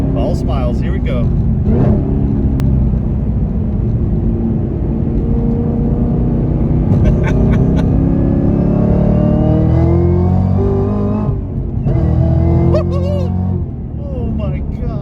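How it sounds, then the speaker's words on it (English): A car engine with a Corsa Extreme Plus catback sport exhaust drones steadily at highway speed on the interstate, with a rumbling exhaust and road noise throughout, and voices talking over it inside the cabin. "just so you know what the car sounds like on the interstate"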